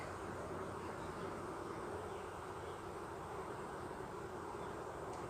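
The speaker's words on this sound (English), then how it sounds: "there is a lot of bees in this hive." Dense, steady hum of many honey bees swarming at an open beehive during hive inspection, a continuous close buzzing drone with no talk.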